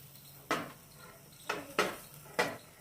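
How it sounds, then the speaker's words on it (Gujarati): Grated cauliflower being stirred into spiced gram flour in a pan, with a few distinct scraping clacks of a spoon against the pan spread over a few seconds, moderately close, with no talking. "ફ્લાવરને સરસ મિક્સ કરી લઈએ."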